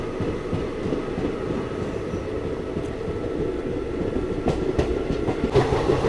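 Tirupati–Puri Express train at Bapatla station, a steady low rumble of rolling wagons with faint rhythmic wheel clatter and brief higher squeals toward the end, continuous and fairly close.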